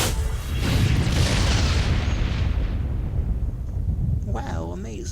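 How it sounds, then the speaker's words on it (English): A mass relay fires an energy orb in the Mass Effect video game, a deep rumbling boom that swells, then fades, with a synthetic warbling effect near the end. "Firing my laser orb."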